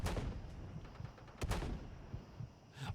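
In Fallout 4, grenades burst among settlers in a game firefight: several sharp, booming blasts at irregular moments, with two prominent near the start and middle and a further one near the end, and no voices.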